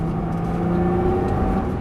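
A Nissan GT-R engine pulls hard on a race track, a loud steady drone with a slowly rising pitch, close up and with no voices over it.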